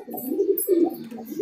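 A fighter pigeon coos close by, soft low throaty calls repeating in short bursts.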